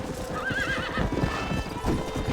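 Horse hooves clip-clop steadily close by in the Red Dead Redemption video game while the horse lets out a clear wavering whinny early on over soft ambient noise.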